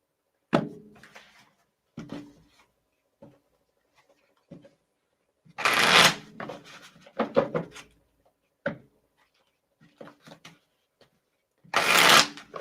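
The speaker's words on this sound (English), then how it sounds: "let me pull a card, see what that" A deck of cards being shuffled and handled, heard as irregular riffling bursts and soft flicks separated by quiet gaps, close and fairly loud, with no speech.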